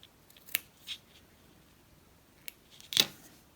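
Scissors snipping short yarn ends on a crocheted wolf amigurumi, a few faint, sharp, isolated cuts spread across quiet, with one louder snip near the end.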